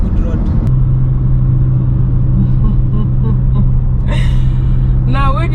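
A car driving on the Masaka expressway, a loud steady low engine and road rumble close inside the cabin, with brief voices talking over it near the end.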